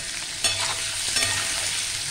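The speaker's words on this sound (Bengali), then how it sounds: "আমি এটাও ভেজে নিচ্ছি, বেশ লাল করে ভেজে নেব।" Food frying in a pan in a home kitchen: a steady, close sizzle with crackling spatters and occasional sharp pops, no voices.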